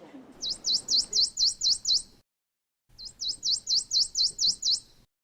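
A prairie warbler calls during bird banding, giving two clear bursts of about six rapid, high, upslurred chirps each, separated by a short pause. The bird sounds close and nobody talks over it.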